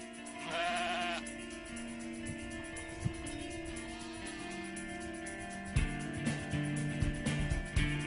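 A sheep left in a farmyard at night bleats once, clearly and fairly close. A long low drone and scattered soft knocks and rustles follow in an otherwise quiet setting.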